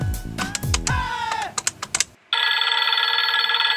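A telephone rings in an office setting, a loud continuous electronic trill that starts abruptly after a short stretch of tapping keys and clinking sounds.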